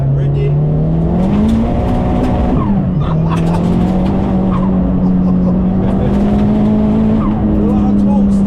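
A 307 bhp big-turbo Toyota Starlet GT Turbo Glanza hatchback pulls hard under a loud, steady engine drone that climbs and dips with gear changes, heard from inside the car with people talking over it.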